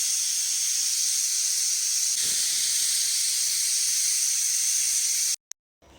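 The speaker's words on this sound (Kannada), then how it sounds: "ಒಂದು 2 ವಿಷಲ್ ಬರೋವರೆಗೂ ನಾವು ಟೊಮೊಟೊನ ಬೇಯಿಸ್ಕೊಳ್ಬೇಕಾಗುತ್ತೆ." A pressure cooker cooking tomatoes with onion, garlic and turmeric vents steam in a loud, steady hiss that runs for several seconds and then cuts off abruptly near the end.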